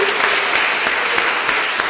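A church congregation gives a round of applause during a worship service, a thick, continuous wash of many hands clapping at close range with no break.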